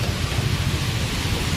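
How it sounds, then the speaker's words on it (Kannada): Heavy rain pours down steadily as a dense, loud, continuous hiss with no other sounds. "ಫುಲ್ಲು ಮಳೆ ಐತಿ."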